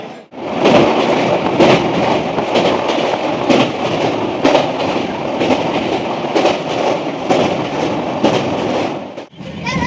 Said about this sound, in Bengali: আর এটা হচ্ছে আমাদের ট্রেন, ঠিক আছে, এই হচ্ছে ট্রেন।